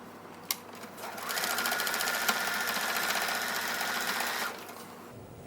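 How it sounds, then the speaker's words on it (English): A sewing machine stitches straight across repurposed fabric for a bag, its motor whirring in a steady, close, fast run for several seconds before stopping, with a few clicks at the start. "So now I'm just going to sew across."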